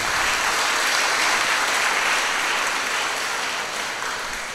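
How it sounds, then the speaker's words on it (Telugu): Dense, steady applause from a large audience at the Our Lady of Lourdes feast in the Kurnool cathedral, continuous and fairly loud throughout, easing slightly near the end with no talk. "మనమందరం గట్టిగా చప్పట్లు కొట్టి వారిని అభినందిద్దాం."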